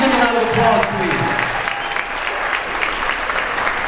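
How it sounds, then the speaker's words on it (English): A crowd at a high school girls basketball event applauds for a grandfather, a steady burst of clapping that starts loud and gradually thins, with faint voices in the room. "Give him a round of applause, please."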